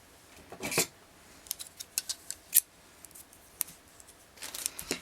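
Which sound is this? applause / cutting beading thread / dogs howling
cutting beading thread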